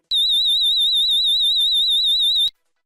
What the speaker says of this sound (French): le niveau d'alarme pré-alarme forte qui déclenche la sonnerie de la centrale en puissance pendant 15 secondes